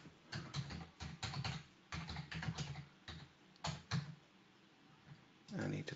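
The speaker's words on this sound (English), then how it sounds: "I need to type in an M." Bursts of quick keystrokes on a computer keyboard come in short irregular runs separated by brief pauses, close and fairly quiet.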